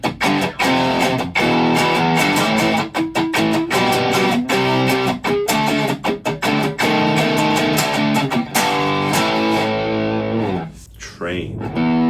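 Loud, heavily distorted electric guitar, an Enya Nova Go Sonic played through a big amp, plays chunky chords and riffs, ending in a burst of feedback; no talking is evident.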